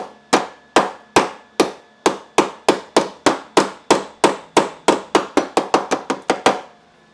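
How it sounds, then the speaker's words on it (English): Metal hammer strikes on the rocker panel of a Honda Fit, about twenty sharp, ringing blows in a steady rhythm that speeds up toward the end, close and loud with no talking. "so give it a little hammer time"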